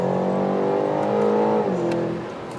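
A 2020 BMW M8 Competition with a 625hp engine pulls at full throttle from inside the cabin, a loud rising engine drone climbing in pitch before a gear change drops it and the roar eases slightly, with no talking over it.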